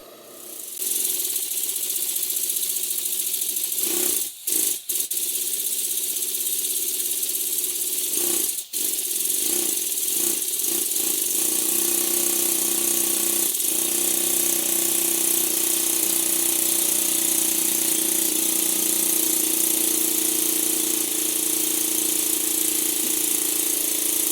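A small model steam engine hums and rattles continuously with a steady mechanical drone, interrupted by a few short clicks and dropouts early on, no voices.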